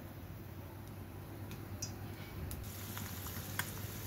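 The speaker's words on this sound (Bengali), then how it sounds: "এখন আমি এই যে ডিম নিয়ে নিয়েছি, একটা ডিম পোস্ট করব। তেল গরম করে নিয়েছি" An egg frying in hot oil sizzles with a steady, fine crackling hiss, a few brighter pops and spatters rising near the end, close and moderately quiet with no talking.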